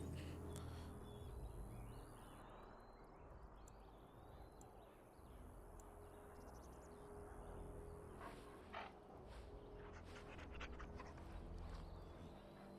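A dog in the Dragon Age Origins video game pants and whimpers softly, faint and intermittent beneath a busy game soundscape of low rumbling and scattered clicks.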